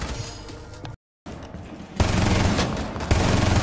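Dense in-game gunfire from Rainbow Six Siege, a loud sustained burst of rapid shots that breaks off briefly into silence, then returns as heavier continuous automatic fire through the rest of the clip.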